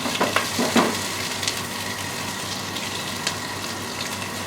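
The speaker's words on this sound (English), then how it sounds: "they're frying away nicely now. Give them a couple of seconds in there to blister." Chilies frying and blistering in hot oil in a pan on the heat, a soft steady sizzle with a few crackling pops early on.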